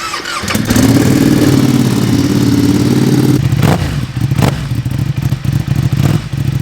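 Ducati Streetfighter V2 twin with a full Akrapovic exhaust warming up close by, a loud, lumpy idle with deep uneven thumps, then sharp throttle blips and crackling pops rising above the rumble.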